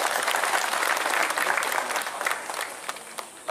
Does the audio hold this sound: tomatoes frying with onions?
no